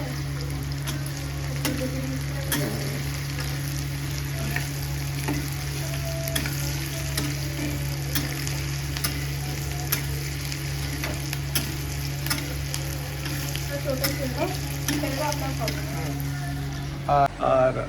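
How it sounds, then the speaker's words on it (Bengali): Onions sizzle and fry steadily in a hot pan while being stirred, the scraping of the utensil coming through at intervals over a constant low hum, with rain-day ambience in the background and no voices. "পেঁয়াজটা লাড়বো একটু, চলো হেল্প করে দিই।"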